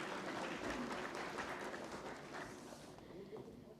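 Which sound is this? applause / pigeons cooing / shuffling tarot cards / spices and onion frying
applause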